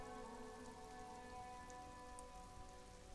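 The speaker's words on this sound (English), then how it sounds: "All around you, rain falls on the great city of Rivershot." Rain falling on a city in the video game Disco Elysium: a steady, soft, even patter of raindrops on surfaces, continuous and fairly faint throughout, with no voices.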